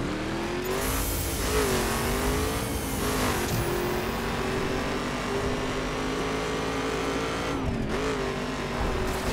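A racing car in the video game The Crew roars at high revs through a long race, engine pitch rising and dipping as it slows for braking, with tyre squeal and steady loud motor noise throughout.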